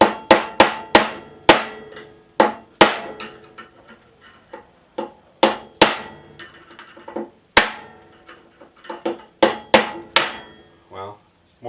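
A hammer taps repeatedly at a seized key on a John Deere STX38 riding mower, making sharp, ringing metallic strikes at an irregular pace, close and loud, with a brief murmur near the end.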